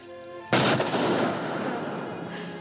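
A single loud gunshot cracks out during shooting practice, a sharp sudden blast followed by a long decaying echo with no voices over it.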